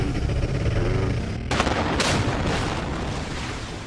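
A sharp blast cracks out suddenly, followed by a second burst and a rolling, crackling rumble of demolition charges bringing down the Supertech twin towers in Noida, over a dense roaring background.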